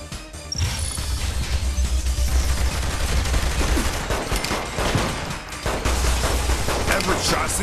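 Heavy gunfire in the video game Saints Row The Third, with dense bursts of shots, crashes and impacts piling up loudly over several seconds, and an announcer voice partly mixed in.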